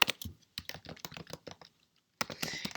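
Computer keyboard typing CSS flexbox code, a quiet close-up patter of quick key clicks in short bursts with a brief pause before a final flurry.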